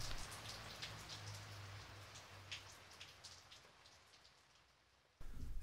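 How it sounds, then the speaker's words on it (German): Steady rain falling in an animated film scene with pandas, a dense close hiss of drops with brighter individual splats, fading slightly before an abrupt louder burst of rain at the end. "Mingmings Farbe wird durch den Regen abgewaschen."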